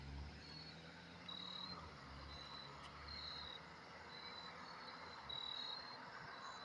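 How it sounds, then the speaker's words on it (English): A cricket chirps at night by a street, short bright trills repeating every second or so, faint against a low, steady outdoor hum. "I don't know if the microphone coil is picking up that cricket sound or not"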